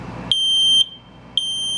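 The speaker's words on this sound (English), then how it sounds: "the alarm goes off." A smoke detector rigged as a homemade car alarm sounds in two piercing high electronic tones, a long shrill blast then a second one starting after a short gap, loud and close with no talking.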